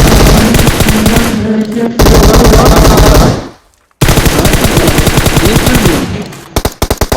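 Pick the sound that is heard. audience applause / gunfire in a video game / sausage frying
gunfire in a video game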